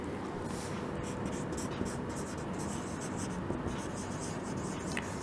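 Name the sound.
writing an accounting entry by hand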